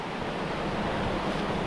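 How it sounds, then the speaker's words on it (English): Wind blows steadily through a hot canyon on a trail toward Bright Angel Creek, a broad continuous rushing hiss buffeting the microphone with no speech. "Nice breeze,"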